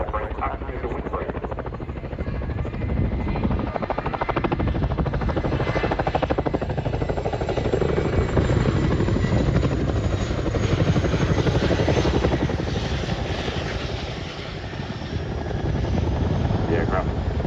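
A military helicopter manoeuvring at the RAF Cosford airshow makes a loud, continuous rotor thrum and turbine whine that swells and eases slightly as it turns and decelerates, heard outdoors at close range.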